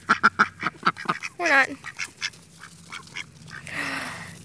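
Ducks quack in a quick burst of loud, close calls, then a few more scattered quacks follow, while a person speaks briefly in between.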